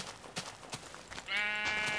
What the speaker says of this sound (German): Ich hab ein Schaf gefunden.